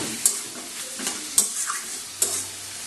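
Spinach fries in a pan under a low sizzle, broken by three or four sharp scrapes and taps of a spoon stirring against the pan, with no talking.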